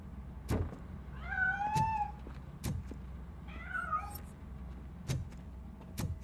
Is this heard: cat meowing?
yes